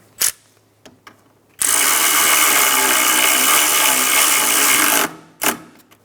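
A power tool runs nonstop for about three and a half seconds, tightening a 10mm bolt on a radiator hose bracket of a 2007-2012 Nissan Altima. It is loud and close and is bracketed by a few short clicks and knocks.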